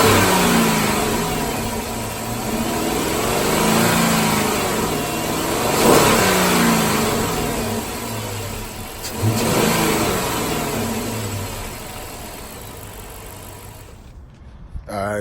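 A 5.7 Hemi V8 with its factory air intake revs loudly and steadily, its mid-pitched engine note swelling and easing through repeated throttle blips over about fifteen seconds, close and continuous before cutting off abruptly near the end.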